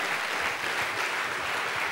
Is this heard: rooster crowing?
no